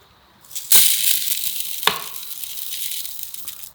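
Washed rice poured into a steamer insert, giving a loud hissing, rattling rush of grains that starts with a sharp onset and runs steadily for a few seconds.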